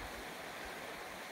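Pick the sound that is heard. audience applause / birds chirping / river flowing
river flowing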